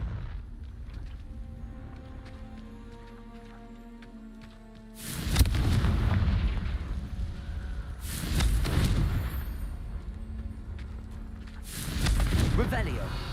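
Confringo blasting spell explosions in Hogwarts Legacy, three loud booming bursts spaced a few seconds apart, each rumbling out over quieter game music.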